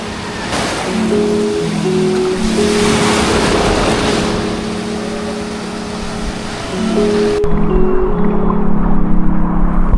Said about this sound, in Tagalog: Lakas ng alon dito.